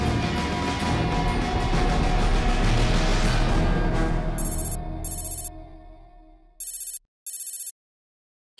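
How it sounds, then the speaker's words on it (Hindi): Telephone ringing in a Hindi family TV serial scene, heard first under a loud music sting that fades, then as two clear, separate electronic rings near the end. "किसका फोन है"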